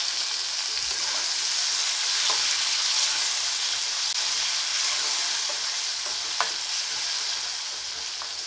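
Tomatoes frying in a pan with oil for a leftover chapati snack, a steady close sizzle with occasional stirring clicks, no voices.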